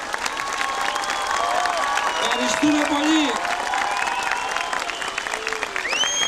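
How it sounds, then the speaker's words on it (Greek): Audience applause at an outdoor Mikis Theodorakis event in Dimitsana, a steady wash of clapping running the whole time beneath a voice speaking over it. "Ένα χειροκρότημα της περιοχής Κυρό."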